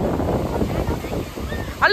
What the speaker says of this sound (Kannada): ತುಂಬಾ ದೊಡ್ಡ ಅಲೆ ಇದೆ.